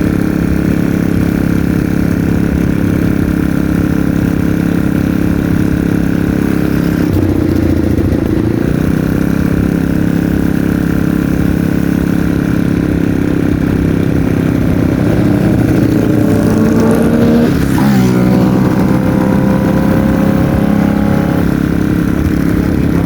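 A motorcycle engine idles steadily, then revs up a couple of times with rising pitch, clattering and close by throughout.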